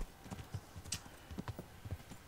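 A horse in the medieval game Kingdom Come Deliverance walks at a steady gait, its hooves striking in an even clip-clop rhythm of about a dozen distinct, fairly faint hoofbeats, with no speech.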